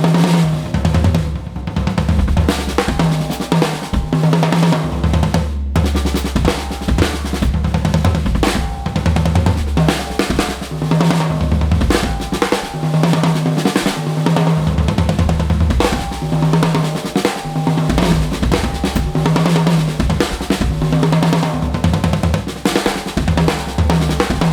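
Jazz-fusion drum kit played continuously and densely, building in a crescendo toward a big accent, with busy cymbals and snare over steady low drums throughout.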